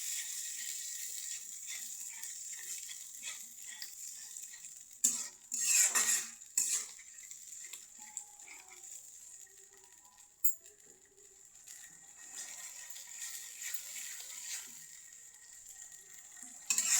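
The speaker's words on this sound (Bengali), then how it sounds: "মশলাটাকে কষিয়ে নেব।" Spice paste for chicken curry stirred and fried in a pan, with a soft steady sizzle and intermittent scraping clatter of a utensil against metal, fairly quiet throughout.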